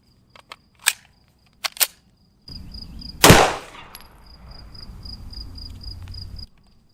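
A CZ P09 9mm pistol fires a Speer Gold Dot 124 grain round into clear ballistics gelatin: a few quiet sharp clicks, then one loud, close shot with a brief ringing tail over faint background hum.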